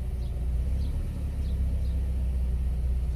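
A car driving along, its engine and road noise making a steady, low rumble heard from inside the cabin, with no one talking.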